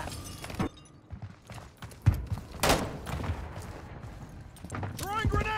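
Scattered gunshots and short bursts of fire in Call of Duty Modern Warfare 3 on the Highrise map, sharp cracks spread unevenly and fairly distant, with indistinct voices underneath.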